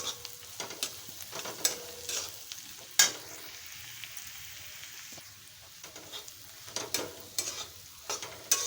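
Chopped onions with a pinch of turmeric sauté in a pan while a spatula stirs them, giving a soft steady sizzle with scattered scraping clicks and a few louder knocks, no voices.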